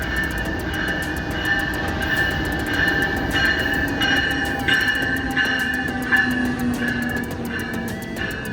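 An MBTA commuter rail train rolls steadily with a continuous rumble and a high metallic squeal, while regular wheel clicks repeat over joints throughout.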